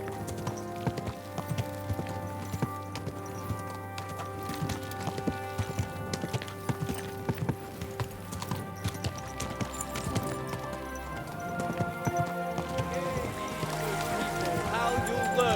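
Steady clip-clop of horse hooves trots along under game music and a voice talking over it, in the video game Kingdom Come: Deliverance II.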